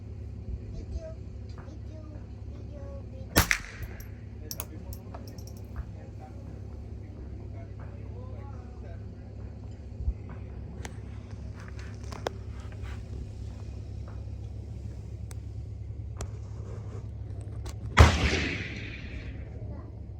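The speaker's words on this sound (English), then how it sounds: "That was a big gun." Two loud, sharp gunshots from a big gun at an outdoor shooting range, several seconds apart, each with a ringing tail, over a low steady background hum and scattered small noises.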